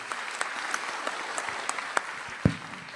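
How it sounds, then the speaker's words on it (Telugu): Scattered clapping from a small group at a government event with the Andhra Pradesh Chief Minister, fairly faint and sparse, with one louder sharp clap near the end. "గట్టిగా చప్పట్లు కొట్టి"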